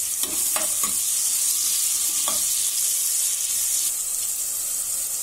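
Onions with salt sautéing in a pan for chickpea kurma, a close, continuous hiss of frying with a few sharp clinks of a spoon stirring early on.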